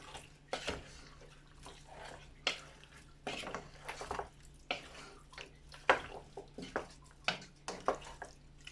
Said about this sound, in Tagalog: Haluin natin ulit, guys.